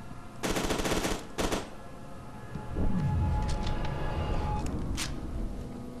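Gunfire in the first-person shooter game FEAR 2: Project Origin, a loud rapid automatic burst followed by a shorter one, then weapon and explosion effects over a droning game soundscape.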